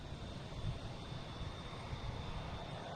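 A Lufthansa airliner arriving at Boston Logan airport, a steady broadband engine roar with a faint high whine, fairly distant and continuous, with no voices over it.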